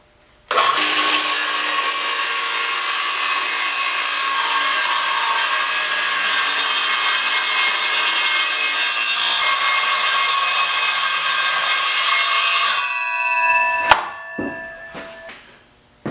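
A circular saw rips through a plywood board guided along a jig fence, one loud continuous cutting whine lasting about twelve seconds, then spinning down with a few clunks as the offcut falls away.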